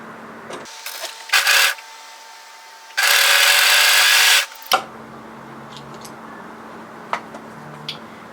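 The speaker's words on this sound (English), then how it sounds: "take your waistband, place it right sides together, and overlock the short end" An overlocker stitches the short end of a skirt waistband in a few loud bursts, a short one and then a longer steady run of about a second and a half, followed by faint clicks and a low hum.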